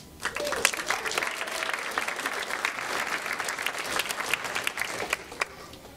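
Audience applause at a Gulf Coast State College diagnostic medical sonography pinning ceremony, a dense, steady crackle of many hands clapping that holds for about six seconds before starting to fade.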